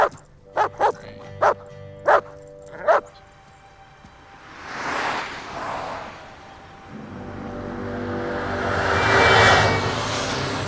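Five sharp, evenly spaced dog barks sound close and loud, then give way to a passing car whoosh and rising broadband background noise.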